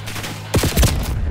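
Gunfire from the video game Black Ops 6, a quick cluster of several sharp shots in rapid succession over a low background, fairly loud and close.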